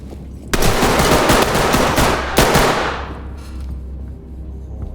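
Rapid automatic gunfire rattles in the tactical shooter Ready or Not. A loud sustained burst lasts about two and a half seconds, then trails off into a fading echo.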